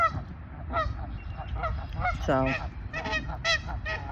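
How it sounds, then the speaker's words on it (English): A lone goose honks several times, the calls clear and moderately close over outdoor background noise, with a brief word of speech near the start. "Look at this lone goose all the way down there"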